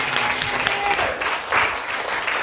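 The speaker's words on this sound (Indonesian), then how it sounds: "aplaus dulu untuk kalian semuanya" Classroom applause for a group of students, a sustained burst of clapping from many hands filling the room, with some voices mixed in.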